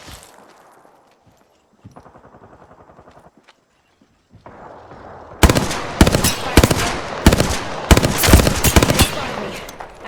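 Gunfire in Apex Legends: a faint rapid rattle of distant shots gives way to loud, close bursts of automatic fire in dense clustered volleys, with brief gaps between strings.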